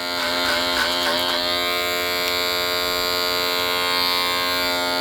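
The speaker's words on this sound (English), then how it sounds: "I want to go back to my clipper over comb because I can get the job done a lot quicker" Electric hair clippers hum steadily and close by, cutting hair clipper-over-comb during a barber pompadour haircut, with the tone shifting slightly as the blades move through the hair.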